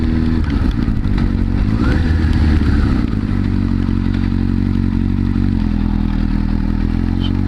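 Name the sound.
high-powered liter sportbike motorcycle riding on wet road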